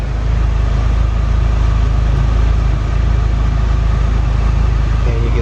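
A turbocharged Mitsubishi Lancer idles steadily, giving a loud, close, continuous low rumble with an even throb that holds unchanged throughout.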